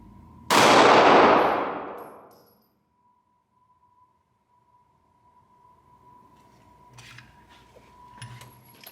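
A single sharp metallic clang from a Sig Sauer P365 SAS 9mm pistol shot striking a steel target board, ringing out and decaying over a second or two, followed by quieter handling noises.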